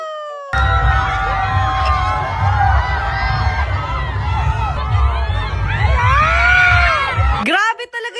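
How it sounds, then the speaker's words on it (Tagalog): A crowd cheers, shouts and screams at a late-afternoon parade during a pageant event, a dense, loud, continuous roar of voices and whoops lasting several seconds before cutting off abruptly. "Grabe talaga yung hiyawan dito."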